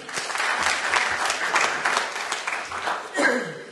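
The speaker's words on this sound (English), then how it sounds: "Can we applaud to him?" A seated audience at a non-ferrous metal industry gathering breaks into dense, sustained applause, the clapping steady and fairly close throughout, with a brief voice rising near the end.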